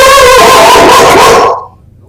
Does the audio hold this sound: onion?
no